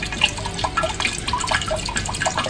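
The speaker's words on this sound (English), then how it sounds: "There's the water running through." Water running through the liquid post of a homemade keg washer, a steady splashing, gurgling flow with fine dripping detail, close and continuous throughout with no voices.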